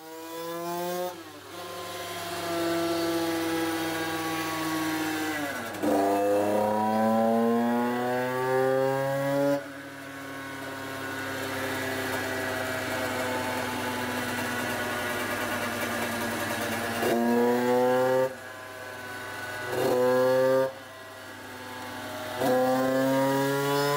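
A motorcycle engine with a new block revs repeatedly on a dynamometer, rising through the gears in long sustained pulls with brief drops between, loud and close.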